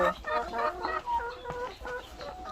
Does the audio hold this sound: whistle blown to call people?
no